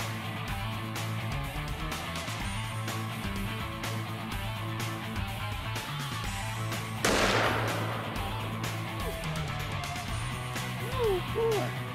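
A single heavy-recoil gunshot cracks sharply at mid-clip against a steady low background hum, followed by a faint rising voice near the end.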